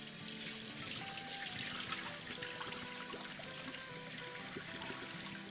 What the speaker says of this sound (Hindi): चार मरतबा पानी डाल के धो लेंगे और इसको ड्रेन कर देंगे